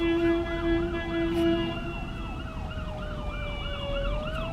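A wailing emergency siren cycles up and down repeatedly, fairly loud over road traffic noise, alongside a steady tonal siren layer.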